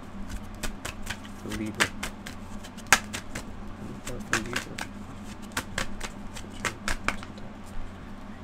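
Tarot cards shuffled and drawn during a reading, giving a series of soft, quick card snaps and slides at an even rhythm under a quiet voice speaking.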